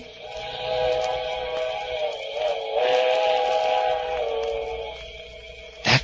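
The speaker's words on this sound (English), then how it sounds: "that was it. The midnight train." A midnight train approaching at night in a radio drama, heard as a steady rumbling drone with a sustained whistle-like tone that wavers and swells slightly, continuous and fairly loud throughout.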